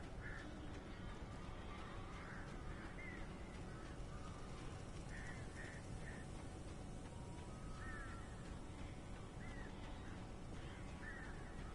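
Crows caw in the Alan Wake video game, a series of harsh calls repeating every second or two at moderate distance over a constant dull ambient rumble, with no talk.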